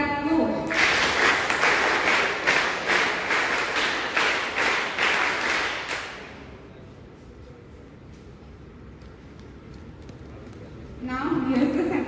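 Crowd of students clapping at a school morning assembly, a steady, fast rhythmic clapping that stops abruptly, leaving quiet room tone before noise returns.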